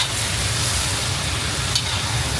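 Zucchini stir-frying in a hot pan hisses with a dense, steady sizzle, loud and close, continuous throughout with no talking.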